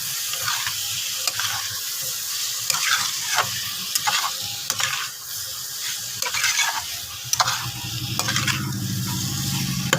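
Boiled potatoes tossed into a hot, spiced pan for Kashmiri aloo dum, with a continuous loud sizzle and repeated scraping stirs, the frying swelling near the end.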